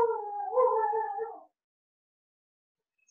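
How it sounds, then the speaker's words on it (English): A dog somewhere in a house lets out a single drawn-out, wavering howl lasting about a second and a half, moderately loud, then falls silent. "that's my dog in the background there"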